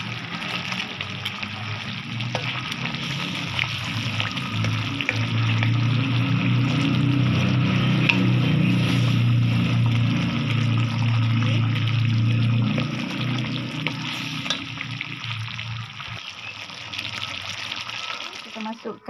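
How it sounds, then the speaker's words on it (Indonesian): Pomfret fish frying in a pan for a sweet and sour dish, giving a loud, steady sizzle that swells through the middle and eases off near the end. "kita goreng dulu"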